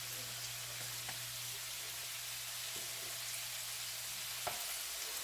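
Cod fillets sizzle steadily in a frying pan just after being flipped, a continuous soft crackle with a few small pops, no talking.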